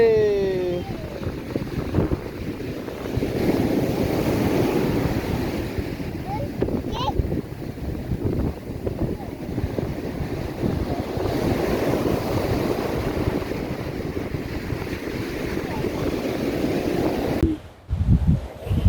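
Waves wash steadily against a rocky shore at Yarada Beach, Visakhapatnam, with wind buffeting the microphone and a voice speaking over the surf; the noise cuts briefly near the end.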